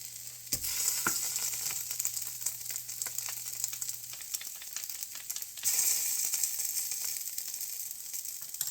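Tomato paste sizzles in a hot pot for heirloom tomato and basil soup while a spoon stirs it through, giving a steady soft frying hiss with occasional scraping clicks and no talking.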